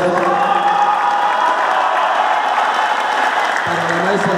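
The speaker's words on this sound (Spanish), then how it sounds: "Yo les pedía de muy rápido un aplauso para al maestro Roberto Romero" Applause from an audience at a school sports event, dense and steady throughout, with a crowd murmur and voices mixed in and a low voice rising near the end.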